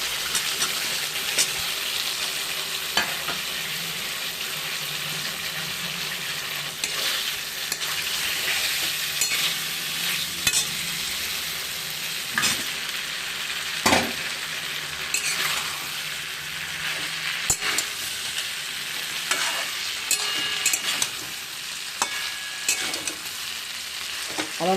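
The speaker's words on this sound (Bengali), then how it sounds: "এখন আমি পেঁপেটা আর সয়াবিনটা দিয়ে দেব।" Papaya and soybeans fry in a pan with a steady, loud sizzle, broken now and then by the scrape and knock of a spatula as the food is stirred, with no talk over it.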